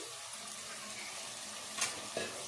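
Marinated mutton goes into frying rice for mutton dum biryani, giving a soft, steady sizzle with a couple of faint clinks and stirring scrapes near the end.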